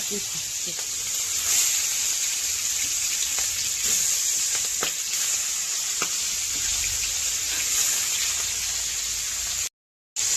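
Fish rubbed with salt and turmeric fries in hot oil in a wok (kadai), giving a steady, loud broadband sizzle with scattered pops and crackles throughout, briefly cutting out near the end.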